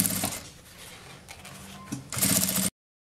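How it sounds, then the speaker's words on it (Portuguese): A sewing machine stitches bias binding around the edge of fabric with close, rapid mechanical whirring, finishing with a louder run before stopping abruptly. "E vou costurar bem na beiradinha,"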